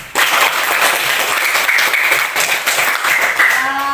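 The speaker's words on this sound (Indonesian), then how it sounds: "Beri tepuk tangan untuk kita semua." A classroom of students bursts into brisk, close clapping that starts abruptly and carries on with uneven, lively hand slaps throughout.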